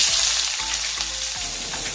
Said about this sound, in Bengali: দিচ্ছি কেটে রাখা পেঁয়াজ আর কাঁচা লঙ্কা